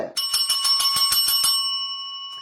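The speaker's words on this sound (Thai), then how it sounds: "กระดิ่งดังแล้วจ้า กระดิ่งดัง" A bright metallic bell rings in a rapid series of about ten strikes, loud and close, then its tone lingers and fades out.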